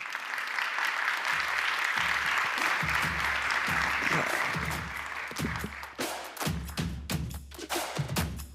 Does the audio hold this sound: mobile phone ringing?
no